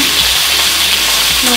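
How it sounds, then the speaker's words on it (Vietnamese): Pickled mustard greens being stir-fried in a pan, a steady close sizzle and crackle of frying with soft stirring scrapes throughout, no talk. "Khi xào phần dưa thì các bạn sẽ bóp phần nước ở trong dưa đi"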